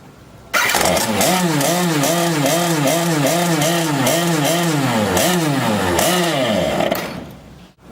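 A JetSurf motorized surfboard engine, held upright after riding, starts abruptly and runs with a buzzing two-stroke rattle that revs up and down in a steady rhythm before cutting off, with no talking.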